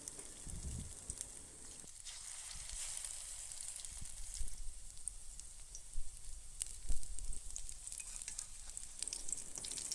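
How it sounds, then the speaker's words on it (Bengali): Egg and potato fritters fry in hot oil in a wok, giving a faint, steady sizzling hiss with small crackles and pops throughout and no voices. "এবার কড়াইতে তেল দিয়ে বড়াগুলো ভেজে নিচ্ছি।"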